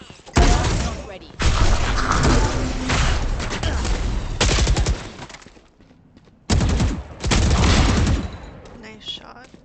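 Several loud bursts of automatic gunfire in the video game Valorant, separated by brief pauses, with players' voices talking over the shooting.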